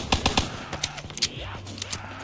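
Pistol fire in Black Ops 3 Zombies video game pops in quick sharp bursts, several close shots in rapid succession over low game rumble.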